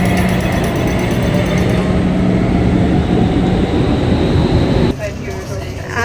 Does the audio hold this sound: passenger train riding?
yes